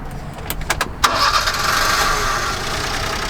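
A new car's engine starting up, with a few sharp cranking clicks and a catch, then settling into a steady, fairly close idle hum.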